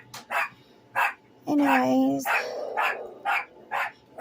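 Small dogs bark repeatedly in short, sharp yaps spread evenly across the stretch, loud and near, with someone talking over one of the barks.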